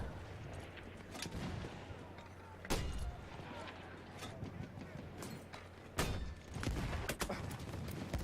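Explosions strike the side of a building during Battlefield 1 combat on the Tsaritsyn map, with sharp blasts near 2.7 and 6 seconds over a constant rumble of gunfire and battle noise, and a voice talking throughout.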